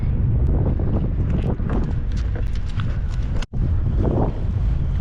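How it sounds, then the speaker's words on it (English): Strong wind buffets a boat on the western Long Island Sound during a November blackfish trip, a steady broadband roar with gusty swells and one brief dropout, close and loud. "it's still bad wind, make no mistake, but it's at least doable today"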